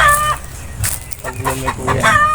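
A rooster crows nearby, its strained, drawn-out calls rising and falling over clucking hens and farmyard background noise.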